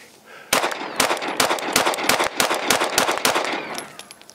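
Sig P365 Fuse pistol fired in a rapid string of about a dozen sharp, loud shots at close range, evenly spaced and echoing outdoors.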